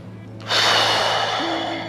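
A deep, full breath during a beginner's qi gong exercise: after quiet, a long airy inhalation swells in, then holds steady and slowly fades, close and alone without talk.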